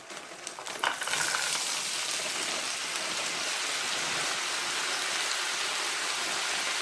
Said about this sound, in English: And we'll be sauteing this okra.